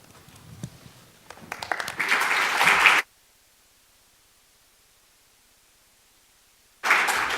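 An audience at a Scottish Government address breaks into applause that swells to a dense burst, cuts off into silence, then starts up again abruptly.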